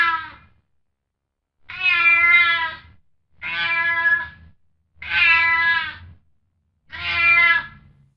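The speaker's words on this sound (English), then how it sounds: "Yep, it's a cat." Four loud, drawn-out meows from a cat, spaced a second or so apart, clear and close with silence between them.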